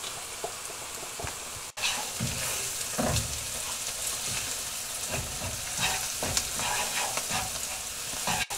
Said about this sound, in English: just tipping it in and then stirring round to blend with the onions